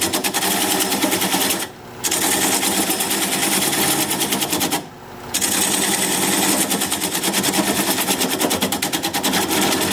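Wood lathe spinning an oak burl at about 600 RPM while a 3/8 inch bowl gouge cuts away the tenon; a loud, dense, rattling mechanical roar runs throughout, dipping briefly twice.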